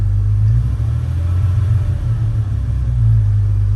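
A Jeep with a 4.0 engine and a repaired throttle body, being troubleshot for a P0171 fault, drives along. Its engine makes a loud, steady, deep rumbling drone from start to finish, with no voices.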